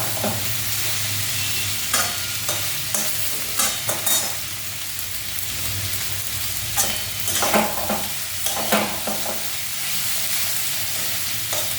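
Bitter gourd stir-frying in a pan, a steady oil sizzle running throughout with repeated scraping and tossing strokes of a spatula, close and fairly loud with no talking.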